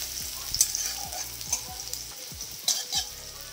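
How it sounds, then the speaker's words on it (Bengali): Chopped onion frying lightly in hot oil for a Bengali ghugni, with a soft steady sizzle and repeated scraping stirs of a spatula in the pan, close and clear with no talking. "হালকা করে আমি এটা ভেজে নেব।"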